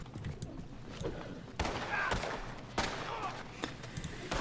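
Gunfire in Red Dead Redemption Online, a string of sharp shots and bangs spread across a few seconds, mid-distance and fairly loud over a game background.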